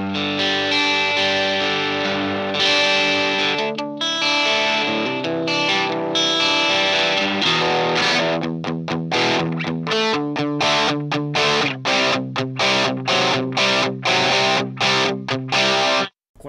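Electric guitar played through a Headrush crunch amp model gives mildly distorted sustained chords, then turns to a run of choppy, rhythmic strummed stabs that stop abruptly near the end, loud and alone without talk.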